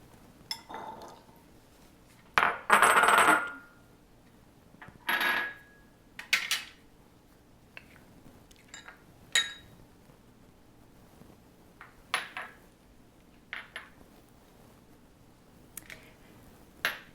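Rice, garbanzo beans, salt and pepper are stirred in a bowl, giving scattered clinks and scrapes of a utensil against the dish, with a few louder knocks and short bursts of mixing between quiet gaps.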